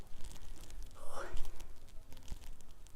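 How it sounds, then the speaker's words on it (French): A person exhales one brief, breathy puff of air near the microphone, a soft whooshing rush that swells and fades in about half a second amid quiet rustling. "Je vais souffler."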